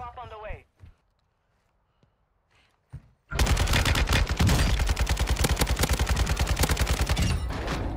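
An RPK light machine gun in Warzone 2 opens up after a few seconds of near silence and brief speech, then roars in a long, loud, rapid sustained burst to the end.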